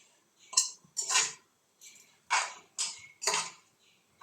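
Stirring and sautéing ingredients for mandi rice in a pot, a series of distinct metal spoon scrapes and clinks against the pot in an uneven rhythm, close and clear with quiet gaps between strokes.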